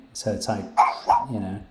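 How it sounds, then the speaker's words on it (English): A pet dog barks a few times in the background wanting to go out for a walk, short yips layered under a person's steady talking. "That's your real dog, isn't it? Wanting to go out for a walk."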